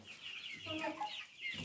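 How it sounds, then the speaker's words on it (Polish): Chickens clucking inside a whitewashed henhouse on a ranch, soft overlapping calls that are faint and close-by. "zobaczcie, jakie tu są niektóre duże kury"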